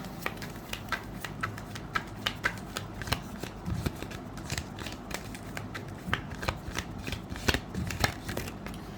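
Tarot cards shuffled and drawn up close, a steady run of crisp riffling flicks and soft slaps with no voices.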